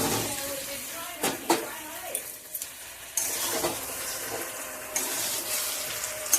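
Boiled potatoes tumble into a pan of sizzling spices with peas for a spicy potato curry, bringing scraping stirs, a couple of sharp clinks and a steady frying hiss.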